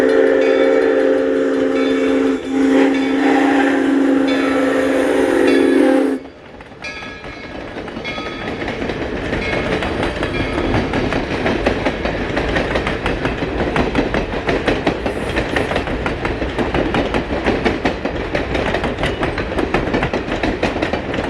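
A steam train rushes past at close range through woods with a steady rumble and rhythmic clatter, following a few seconds of a sustained loud horn-like tone.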